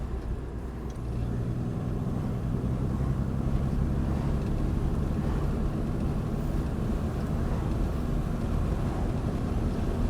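1953 Nash Healey Le Mans Coupe cruising on the road, heard from inside as a steady low engine rumble mixed with wind and road noise, continuous and fairly loud throughout.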